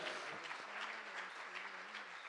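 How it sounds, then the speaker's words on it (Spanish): A church congregation at a Sunday service applauds in a dense, sustained wash of clapping, with voices humming faintly beneath it. "dale un aplauso"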